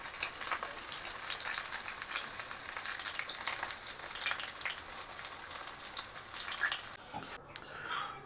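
Cheesesteak egg rolls fry in hot oil with a steady, faint crackling sizzle throughout, cutting off near the end.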